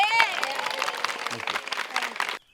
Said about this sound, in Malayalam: അവർക്ക് നല്ലൊരു കൈയടി നിങ്ങൾ കൊടുക്കണം